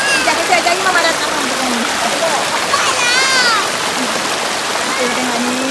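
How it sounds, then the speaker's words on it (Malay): A clear river stream at a campsite on Sungai Sendat, Ulu Yam, rushes and splashes steadily nearby, with a child's and an adult's voices talking over the flowing water. "Kita tengok ni, air dia jernih. Bunyi cantik air dia."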